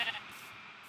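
A single short sheep bleat from the Minecraft video game sounds at the very start, then fades into quiet background hiss.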